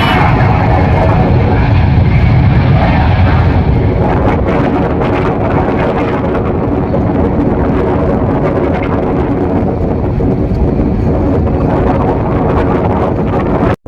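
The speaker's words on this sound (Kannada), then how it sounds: "ನೋಡಿ ಬ್ರಿಟಿಷ್ ಏರ್ವೇಸ್ ಹೊರಡ್ತಾ ಇದೆ" Strong wind buffets the microphone outdoors at London City Airport while a departing British Airways plane rumbles under it as a loud, steady roar.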